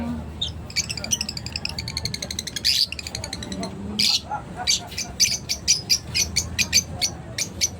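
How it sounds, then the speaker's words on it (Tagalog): Bright bird chirps and tweets repeat in quick bursts throughout, mixed with squawky calls, while a person talks over them close by. "ang ganda naman ang huni ng ibon na yan"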